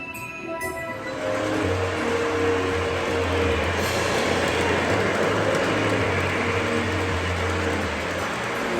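A model Christmas train runs on a layout with a continuous close rumble of wheels and motor, steady and fairly loud after a brief softer opening.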